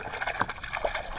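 Water splashes and gurgles as a muskie is released back into Eagle Lake in Northwest Ontario, a short close burst of sloshing with no talk.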